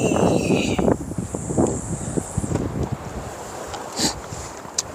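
Wind gusts buffet the microphone on a seaside breakwater during shore casting, a loud rough rumble with rushing noise and occasional sharp bursts, no voices.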